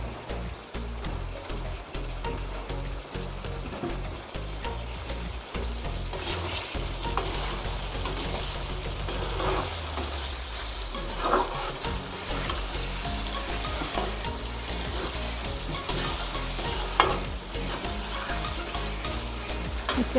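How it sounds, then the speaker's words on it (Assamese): Skin-on goat meat with cut potatoes sizzles steadily in a hot pan, Assamese style, with a spoon scraping and stirring through it in a continuous frying hiss. "বঢ়াই লৈ মই ভালদৰে মাংসখিনি ভাজি ল'ম।"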